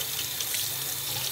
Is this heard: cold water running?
yes